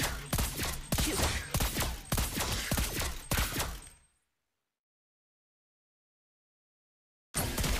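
Rapid bursts of video game gunfire rattle loudly and close for about four seconds, then cut to silence before another burst starts at the end.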